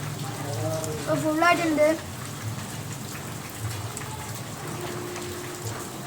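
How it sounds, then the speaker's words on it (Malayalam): Heavy rain pours steadily as a dense, even hiss throughout, while someone speaks briefly over it. "ഇവിടെ നല്ല മഴയാണ്"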